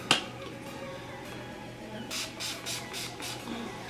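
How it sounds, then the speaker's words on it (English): Several short, soft hissing sprays of Urban Decay All Nighter setting spray puff onto a face in quick succession, faint and close, after a brief click at the start. "I am gonna spray my face now"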